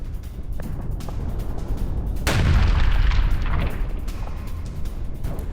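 A heavy blast from a guided bomb strike on Russian troop positions near Avdiivka booms out suddenly, a deep rumbling explosion amid crackling, popping background noise that decays over a couple of seconds.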